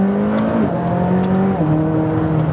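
A 2016 McLaren 570S engine drops pitch in steps as it downshifts, a steady droning hum that falls twice, heard close from inside the car with faint clicks from the shift paddles.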